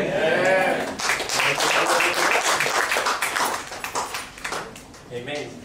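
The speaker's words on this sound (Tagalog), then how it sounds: "Isa pa pong palakpak para sa Panginoon." Congregation applauding at a church service, a dense burst of clapping filling the middle of the moment, with a voice speaking just before and after.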